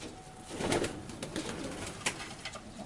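Fabry and Janssen racing pigeons coo softly in their loft, a few low throaty calls rising and fading at moderate distance amid faint rustling.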